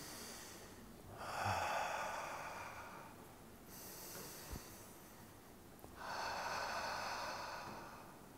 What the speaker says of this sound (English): Breathe into your belly, guys, men. Breathe into your belly. Breathe in.